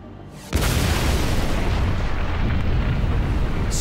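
The RDS-1 atomic bomb test explosion at the Semipalatinsk test site, heard as a sudden loud blast that swells into a sustained, roaring broadband rumble continuing without break to the end.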